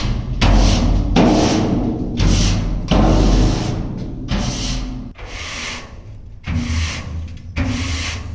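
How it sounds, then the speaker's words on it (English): Broom bristles sweeping out a farm trailer ahead of wheat harvest, a series of loud close rhythmic scraping strokes with dull thumps against the trailer floor, about eight strokes, no talk. "Just before harvesting, it's a requirement to sweep out the trailers."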